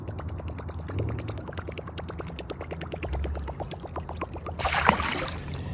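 A 4-inch, 2-ounce Suick Nite Walker topwater muskie lure is pulled across water, giving a steady rapid train of wet ticking splashes with a louder splash burst near the end, no talk.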